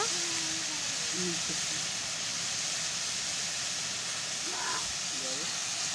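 Green chilies go into a pan of frying potatoes and pointed gourd, with a constant loud hiss and sizzle of hot oil close by while a voice talks over it.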